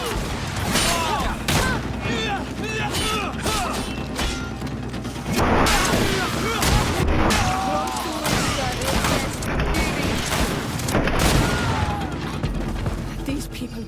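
Grenade blast and gunfire during a battle in the GreedFall video game, a dense clatter of booms, shots and metallic mechanism noises under continuous game sounds, with voices talking.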